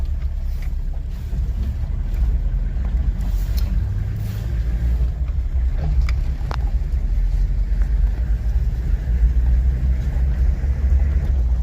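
A car driving out toward the Avi and Kindang territories in Papua New Guinea gives a steady, loud low engine and road rumble with wind buffeting throughout, with no talk.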